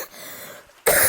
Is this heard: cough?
yes